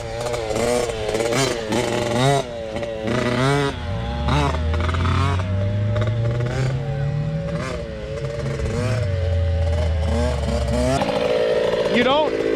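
A Yamaha YZ dirt bike, a 2021 YZ85 or 2018 YZ65, buzzes loudly through a corner, its two-stroke engine rising and falling in pitch as the throttle opens and closes, with a voice talking over it.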